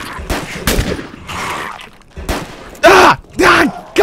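Several loud shotgun blasts in a zombie video game, spaced irregularly over a few seconds, mixed with groaning zombie sounds.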